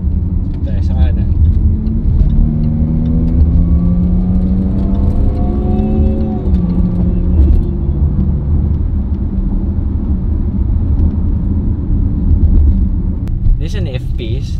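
A Jaguar F-Pace SUV engine note climbs as it accelerates through gears, a continuous low rumble with rising tones, then settles into steady cruising noise.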